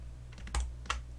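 A brief pair of computer mouse clicks made while holding the Ctrl key in Autodesk Maya 2020, two soft, close taps about a third of a second apart over faint background hiss, with no talking.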